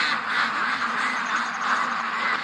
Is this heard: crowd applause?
no